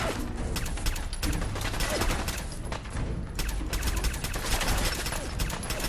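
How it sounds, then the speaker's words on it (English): Dense, continuous gunfire in a Fallout 4 video game gunfight inside a prison, loud and close with rapid overlapping shots and no pause across the whole stretch. "We're at a serious gunfight here."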